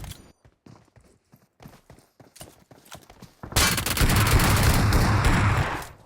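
Gunfire in a battle royale mobile game, scattered sharp single reports at first, then a dense, loud sustained burst of rapid shots with a steady rumble underneath, no talk.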